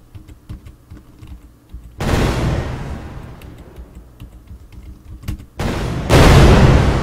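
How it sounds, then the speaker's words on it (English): Video game explosion when the player's character crashes into a rock: a sudden broadband blast at about two seconds that slowly decays, followed by a second burst and a louder, sustained roar near the end, with no talking. "If I hit a rock, then I explode."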